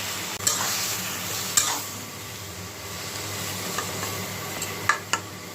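Potatoes sautéing in a pan for a fish curry with eggplant, a steady soft sizzle with occasional sharp clicks and scrapes from a spatula stirring against the metal.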